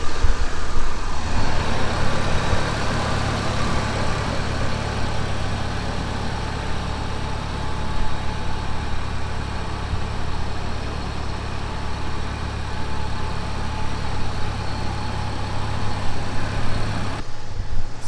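A Nissan S14 Kouki fitted with a custom exhaust idles steadily close by, a constant low rumbling drone with no revs, cutting off sharply at the end.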